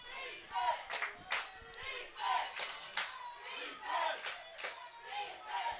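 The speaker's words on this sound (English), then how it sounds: "This Jeffersonville, crowd, they're hyped up." Jeffersonville high school football home crowd cheering and yelling in the stands, a loud, continuous roar of many voices rising and falling in waves with shouted bursts.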